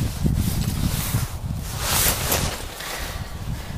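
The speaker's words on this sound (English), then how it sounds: "it's not a big of a wind, but the wind we have is" Cold wind buffets a microphone outdoors beside a wood fire, a rough, gusting rumble that swells and eases over a few seconds.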